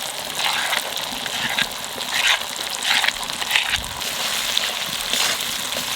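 Ground cumin and coriander spice paste sizzles and fries in hot oil in a pan before fish curry, a steady bright crackle with bursts of louder spitting and occasional stirring.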